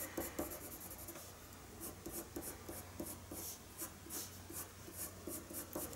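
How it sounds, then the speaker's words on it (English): A white colored pencil burnishes layered areas of a colored pencil drawing of a horse forelock, making quiet, close, repeated scratchy strokes in an uneven rhythm with no talking. "With that I'm going to burnish mostly the parts that have a lot of layers on them."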